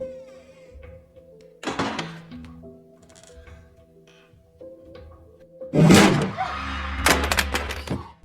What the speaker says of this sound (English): unexpectedly the door slams in her face